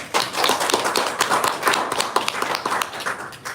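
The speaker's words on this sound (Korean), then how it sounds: "지금부터 사회복지위원회 정책 해박식을 힘찬 박수로 시작하도록 하겠습니다." Audience clapping opens a Democratic Party social welfare committee policy agreement ceremony with the national health insurance union, a steady spread of mid-sized hand claps, fairly close, filling the few seconds without voices.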